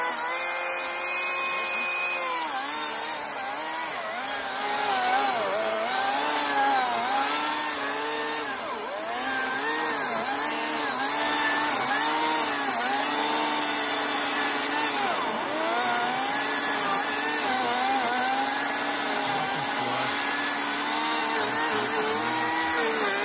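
A Ryobi 36-volt 14-inch chainsaw cuts wood outdoors on a bush track, its motor whining steadily throughout with a repeated rise and fall in pitch as the chain bites and eases, close and loud.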